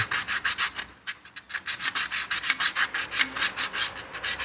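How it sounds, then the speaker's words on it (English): A car brake surface on a SAAB 9-3 is rubbed lengthways with 80 grit emery cloth, giving fast, regular rasping strokes, close and fairly loud, with no talking. "just a bit of 80 grit emery cloth, work the surfaces"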